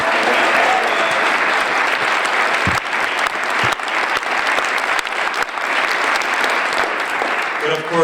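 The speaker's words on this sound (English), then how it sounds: "let's give Lori a round of applause" Audience at a Connecticut environmental conservation summit giving a loud, sustained round of applause, with voices mixed in under the clapping.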